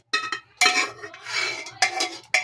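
A utensil stirs pressure-cooked dal and tomato for bisi bele bath in a metal pot. It makes several close, bright scraping clatters in uneven bursts with short quiet gaps between them.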